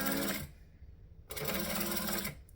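A sewing machine runs in two close bursts of quick stitching while a circle bag is sewn, separated by a short quiet pause, with no voices.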